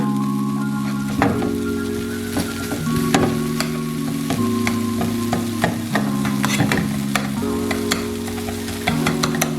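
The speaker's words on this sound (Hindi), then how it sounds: "अब मैं स्पून की मदद से भी थोड़ा थोड़ा इसे मैश कर दूंगी" A spoon mashes tomato chutney batter in a pan, with continuous wet squelching and scraping and repeated light taps over a steady tonal hum in the background.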